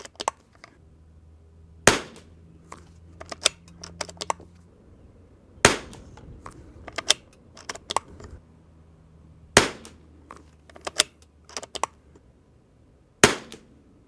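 A Savage MKII Christensen Ranger22 rimfire rifle fires a handful of sharp, close cracks spaced a few seconds apart, each followed by fainter clicks of the bolt being worked, with a low hum beneath.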